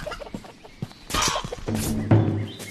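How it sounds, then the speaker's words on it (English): A chicken in the video game A Township Tale clucks in a few short bursts alongside bright clattering hits, close and fairly loud, with no speech. "Die, stupid chicken."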